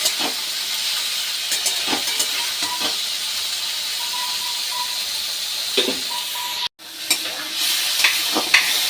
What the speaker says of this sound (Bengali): বিনস গাজরগুলো কেটে সেদ্ধ করে নিয়েছিলাম সেগুলো আমি আবার একটু তেলের মধ্যে ভেজে